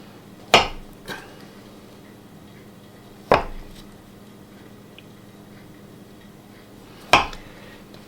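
A knife cuts through a log of butter cookie dough with sharp, close thunks onto a board, three main cuts widely spaced and one lighter tap between, in quiet surroundings.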